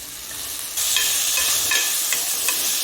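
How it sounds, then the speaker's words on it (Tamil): Tomatoes tumble into onions already frying for a chicken gravy, the steady sizzle jumping louder and brighter at the drop and then crackling on with small popping bursts, close and without talk. "தக்காளி போட்டுக்கிறேன் நான் ஒரு மூணு தக்காளி போடுறேன்"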